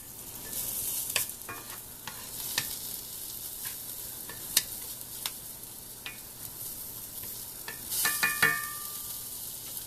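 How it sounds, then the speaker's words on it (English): Onions sauté in a pan for a meatball sub, giving a soft continuous sizzle with scattered crackles and a few scraping stirs, close and fairly quiet, with no talking. "Just want to get these onions kind of sauteed here."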